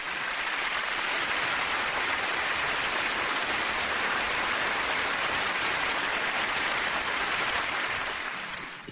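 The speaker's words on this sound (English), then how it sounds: "I want to give her a hand clap right now before she gets started" Sustained, even clapping from a talk-show studio audience welcoming a guest, a thick wash of hands that holds at one level for several seconds before a small sharp clap near the end.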